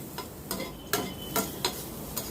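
Grated coconut and coriander leaves are stirred while dry-sautéing in a pan, without oil, for chutney, giving a handful of soft, spaced scraping strokes over a faint, quiet sizzle.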